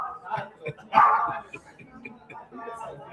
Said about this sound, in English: Sounds like there's a dog in here.